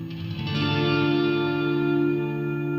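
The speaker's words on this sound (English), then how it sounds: "It's just a very washy reverb," A guitar pedal's washy reverb with no modulation smears a sustained chord into a dense, shimmering wash that blooms after a soft attack and holds steadily, loud and alone.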